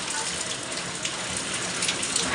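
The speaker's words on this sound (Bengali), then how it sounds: "বৃষ্টি হচ্ছে" Rain falls steadily during Cyclone Remal, a dense, even hiss of water pouring down nearby without letup, with a voice faintly audible underneath.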